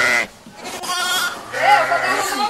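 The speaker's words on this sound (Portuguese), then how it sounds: "Nesse instante passou aqui um bode fazendo bé." A goat bleats outdoors by the Rio Poti in Castelo do Piauí, Brazil, with a short wavering bleat rising near the end while someone talks over it.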